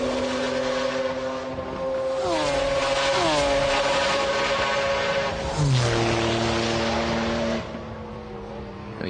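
McLaren race cars cross the finish at the 1995 24 Hours of Le Mans, several engines howling past in overlapping sweeps that drop in pitch as each car goes by. The sound is loud and rushing over crowd and wind noise.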